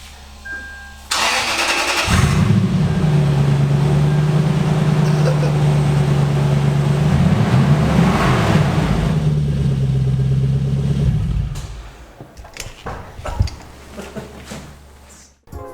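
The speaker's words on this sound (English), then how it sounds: "we decided to unbolt the exhaust at the Cat, and now it sounds much more like a race car" A Toyota 4Runner 4600 race car with its exhaust unbolted at the catalytic converter cranks and fires up, then runs at a loud, raspy, rumbling idle for several seconds before shutting off, followed by scattered clanks.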